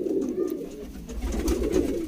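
Close pigeon cooing from a pigeon keeper's loft, soft repeated low coos in a rolling rhythm over a couple of seconds.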